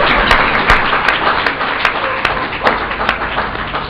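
Audience clapping at an awards presentation, a dense steady patter of many hands with sharper individual claps standing out, fairly loud and close, with no talk over it.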